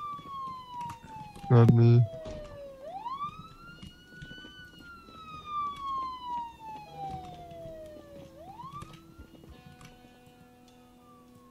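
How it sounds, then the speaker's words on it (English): A siren in the video game Project Zomboid wails, sweeping up and down in long rising and falling tones, with a short burst of speech and faint ticking underneath. "who turned on the sirens?"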